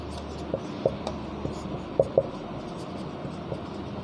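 A teacher writes science notes on a board, soft scratchy marker or chalk strokes with a few sharper taps spread irregularly over quiet room noise.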